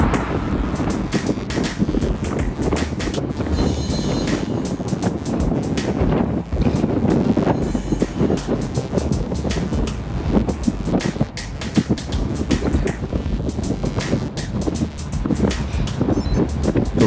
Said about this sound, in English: Right around here, the wind just really started to pound us.